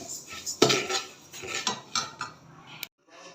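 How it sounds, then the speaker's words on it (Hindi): A metal spoon scrapes and clinks against a pan while rice is roasted dry, giving a run of irregular close scrapes and taps with no voices. "तो इस तरह से हमने चावलों को भून लेना पहले"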